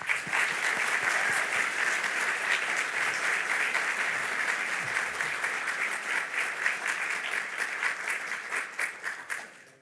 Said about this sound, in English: give the warmest round of applause welcome to our non-Muslim guests